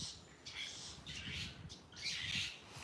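Birds call outdoors on a hillside in Rwanda, a few harsh squawking bursts at moderate distance rising over quiet background, with no speech.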